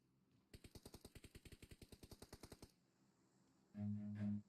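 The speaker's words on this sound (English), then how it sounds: "if you have a M249, you must just shoot" An M249 machine gun in PUBG Mobile fires one sustained automatic burst of about twenty evenly spaced rounds, loud and close, then stops; a short heavier thump follows a second later.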